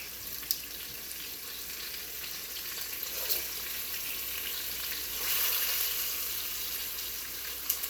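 Floured beef sautéing quickly in a hot pan, a steady broadband sizzle running throughout with a brief louder surge midway, close and continuous with no talking.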